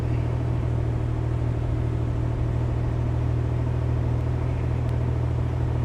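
A steady, loud engine drones close by at idle while it warms up, a constant low throbbing rumble without revving or speech.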